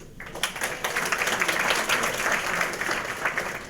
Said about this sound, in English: let's finish our day with another rousing round of applause